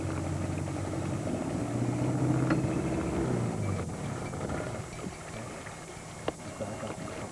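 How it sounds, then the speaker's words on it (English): An outboard motor on a fishing boat on a big lake idles steadily at low volume, a continuous low drone on open water with no talk. "Maybe you should shut that motor down."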